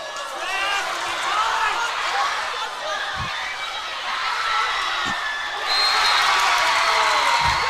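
Crowd at a school football match, Mermaids against St Margarets, a steady outdoor murmur of many voices with cheering and shouts that swell near the end, faint commentary-like talk mixed in.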